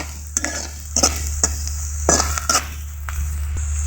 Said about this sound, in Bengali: ছুরির সাহায্যে এভাবে মশলাগুলোকে হালকা নেড়ে নিব